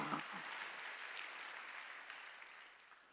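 Congregation clapping during a Sunday church service, a brief burst of applause that starts strongly and gradually tapers over a few seconds.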